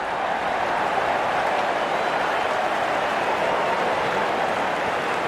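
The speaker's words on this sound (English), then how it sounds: "the crowd cheering in anticipation" Cricket stadium crowd during a South Africa versus India match, cheering as the opening batsmen walk out, a dense, steady roar of many voices and clapping that stays loud and even throughout.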